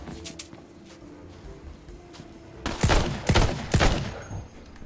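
Sniper rifle shots go off in the video game Tiny Tina's Wonderlands, with three loud reports in quick succession after a few fainter cracks, over quiet game ambience.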